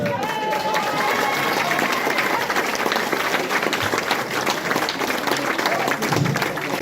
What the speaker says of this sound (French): Donc je voudrais qu'on les applaudisse.